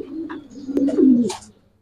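Racer pigeons give a short soft coo, a low throaty murmur rising into a brief rolling call over about a second and a half, close by, with a faint flutter or rustle.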